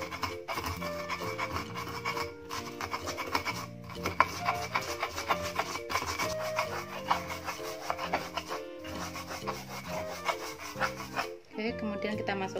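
Ginger, turmeric and coarse salt are ground into a spice paste for Indonesian beef in geneb seasoning, giving a steady rubbing, rasping scrape that runs nearly unbroken for the whole stretch, close and moderately loud.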